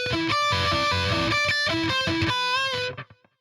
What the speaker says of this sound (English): you're going to palm mute only the third string